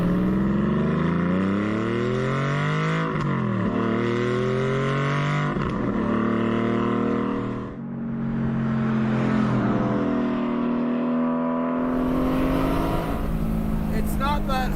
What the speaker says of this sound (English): The crazy thing about this car is that it just doesn't sound like any other Porsche.